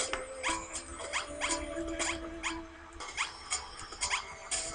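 Cartoonish dog barks and whimpers from an atomic puppy upgrade in the video game Awesome Robot Wants Ice Cream, repeating in quick bursts amid busy, chirpy game effects, with no voices.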